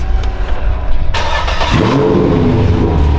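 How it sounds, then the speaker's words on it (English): A Toyota 22R four-cylinder engine in a barn-find lowrider project cranks and catches, then revs up loud and close, holding a rough, rising rumble. "I'm gonna go ahead and crank this motor up because I haven't heard it yet."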